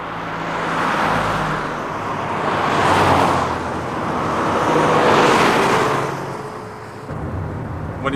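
Car cruising along a motorway, with a steady broadband roar of tyres and engine that swells and eases as other traffic passes close by, continuous throughout and with no talking.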